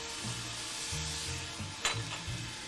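Ginger matchsticks and tender vegetables are stirred in a sizzling pot for Chinese cooking: a constant close frying hiss with soft scraping strokes and a brief sharper clatter near the end.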